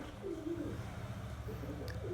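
A pigeon coos softly, a low rolling call repeated a few times over a steady background hum, faint and close.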